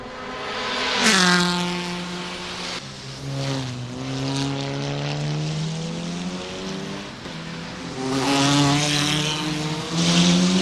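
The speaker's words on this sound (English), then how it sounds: "Yeah, Rob, Sunrider's really hitting the gas" Engines of Audi, Hyundai and Cupra race cars at Fuji in Assetto Corsa whine and shift pitch as they accelerate, several passes rising and falling, loud and continuous with no talking.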